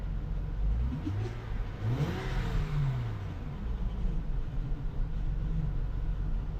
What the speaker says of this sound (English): The engine sounds super healthy.